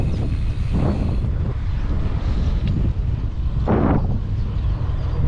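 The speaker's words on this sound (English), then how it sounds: "It is windy" Wind roars steadily across the microphone during a bicycle ride on the open road between Lelystad and Almere, loud and continuous with occasional stronger gusts.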